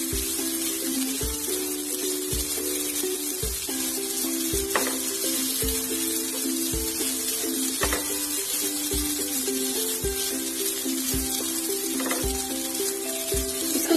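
Sweet coconut-filled modak fry in hot oil with a steady close sizzle and hiss, while a faint regular tapping and a low hum run underneath; no one speaks.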